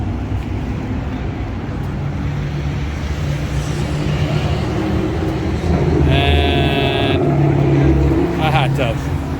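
A smooth Chevrolet C10 pickup truck cruises past in Ocean City street traffic, its engine noise blending into the roadway din, while people talk and a brief high-pitched tone sounds near the end.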